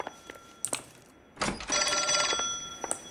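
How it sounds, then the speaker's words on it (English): In the video game L.A. Noire, an old telephone bell rings in short repeated bursts, fairly clear and close, with a brief rustle between rings and no talk over it. "Somebody's ringing my telephone."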